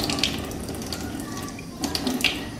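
Tap water runs steadily indoors to rinse something off, a continuous close-up hiss of flowing water with faint splashes and no talking.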